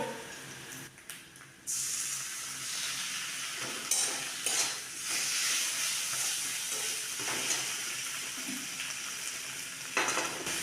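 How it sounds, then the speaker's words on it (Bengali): Ground pointed gourd seed paste with ginger paste frying in a pan, giving a steady hissing sizzle with occasional louder bursts of spattering and stirring, close up and continuous after a brief quieter start. "ভালোভাবে ভেজে নেবো"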